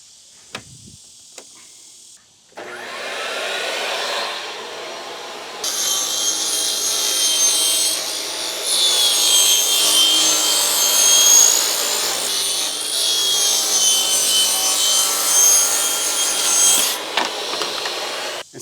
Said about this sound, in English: So I pulled out my table saw. We're going to make some strips and build our stud packs.